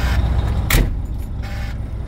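Diesel engine of a 2007 Volvo VNL 780 truck idling, a steady low rumble close by with a brief brighter burst early on, then settling into an even idle.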